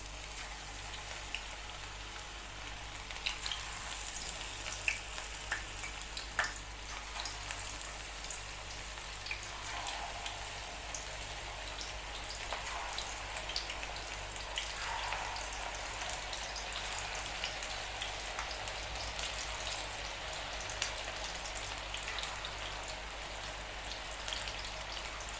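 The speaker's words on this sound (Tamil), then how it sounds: "இப்போ மிக்ஸ் பண்ணி வச்சுருக்க பாவக்காய் சிப்ஸை பொரிச்சு எடுத்துடலாம்." Bitter gourd chips deep-fry in hot oil, a soft, steady crackling hiss like light rain that runs unbroken throughout with occasional faint pops.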